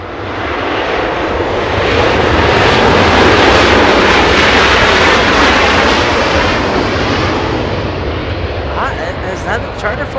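An airliner roars past loudly at Los Angeles International Airport, likely a charter flight, building to a sustained broadband rush that lingers and slowly fades.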